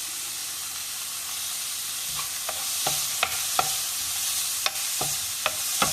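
Medium-size finely chopped carrot and half a capsicum sautéing in a pan, a steady bright sizzle broken by scattered sharp clicks of a spatula stirring against the metal, close and alone without voices.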